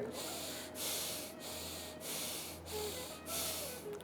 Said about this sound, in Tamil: ஒரு 3 டைம்ஸ் மூச்சை உள்ளெழுத்து மூச்சு வெளியே விடுங்க